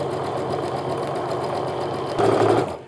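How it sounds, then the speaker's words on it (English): A sewing machine running steadily as it stitches a quarter-inch quilt seam on strip-pieced quilt fabric, a continuous close mechanical whir with a louder burst near the end before stopping. "now I'm just going to sew my 1/4 inch seam like normal"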